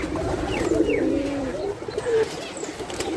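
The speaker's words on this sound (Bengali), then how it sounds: "পায়রাগুলো খুবই সুন্দর এবং সুস্থ" Healthy pigeons coo close by, a few soft, rolling throaty calls over about three seconds with no talk.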